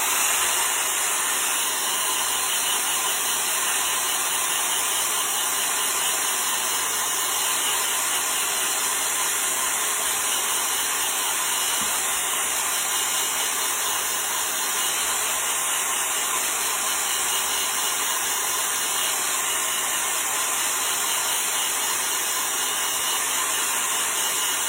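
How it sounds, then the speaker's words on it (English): A blow dryer runs steadily and close for the whole stretch, drying a chalk paste transfer used with shimmer paste for a leaf design; its broad hissing airflow stays even and loud with no talking. "So let me grab the blow dryer."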